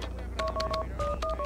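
Touch-tone telephone dialing in the Max Payne 2 video game: a quick run of about seven dual-tone beeps, clear and close, with short even gaps and no talking.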